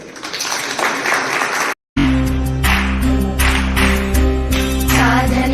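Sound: audience applause

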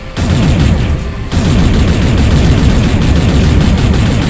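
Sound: gunfire in the video game Space Salvager

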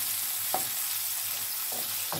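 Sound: zucchini flowers sizzling in olive oil in a pan

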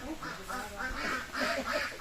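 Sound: ducks quacking

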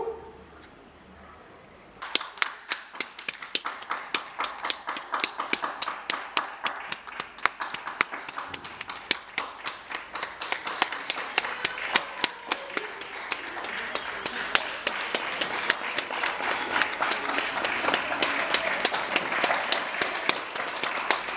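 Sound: neighbours clapping from balconies during lockdown

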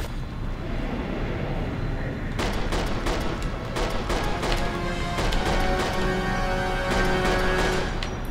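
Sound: gunfire in video game Resident Evil 6

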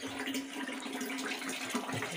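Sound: tap water running, filling containers

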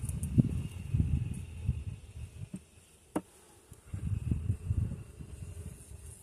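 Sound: honey bees buzzing in an opened hive nucleus

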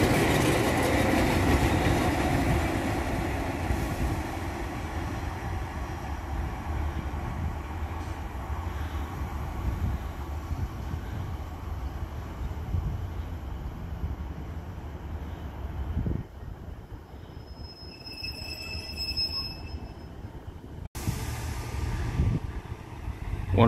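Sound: Class 143 Pacer train departing

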